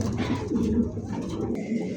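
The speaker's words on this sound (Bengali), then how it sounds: "আচ্ছা দেখেন ডাকতিছে।" An Aparajita pigeon coos in a low, throaty rolling call close by, continuous for a couple of seconds with a brief sharp click near the end.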